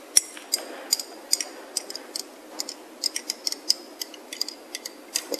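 A teaspoon stirring chlorella into a heavy metal solution in a glass flask gives a quick run of bright, close glassy clinks and ticks, irregular but steady, over faint background hiss, with no voices.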